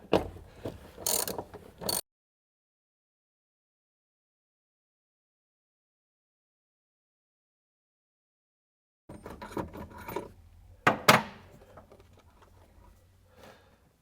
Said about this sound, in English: with a 5/8" deep dish socket to remove the retaining nuts on both of those mechanisms